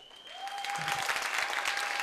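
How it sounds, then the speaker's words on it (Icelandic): Applause from the grandstand at a horse show, dense clapping from many hands that builds and holds steady, with a tonal whine running through. "hlýtur hér gott klapp frá stúkunni"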